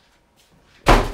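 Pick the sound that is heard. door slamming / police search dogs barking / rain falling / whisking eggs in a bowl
door slamming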